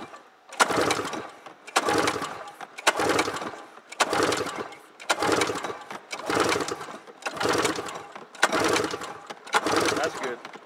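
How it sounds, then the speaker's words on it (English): A 1997 Yamaha Vmax SX 600 twin snowmobile engine cranks over during a compression test, with about nine loud, evenly spaced chugging bursts separated by brief gaps. "So we're going to do an engine compression test on the motor"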